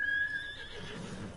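A horse in the samurai game Ghost of Tsushima gives a short, bright whinny that fades into soft low rustling, fairly quiet with no talk over it.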